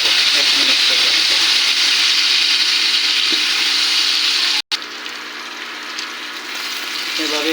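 Chopped onions frying in a pan, a loud, dense, steady sizzle that briefly cuts out, then returns slightly softer, with faint scraping of stirring underneath.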